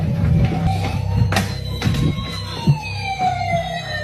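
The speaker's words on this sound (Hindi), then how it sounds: "पुलिस की आवाज आ रही है पीछे।" Police siren wailing with rising and falling tones over a dense, muffled background that seems to come from a toy, with several short sharp knocks scattered through.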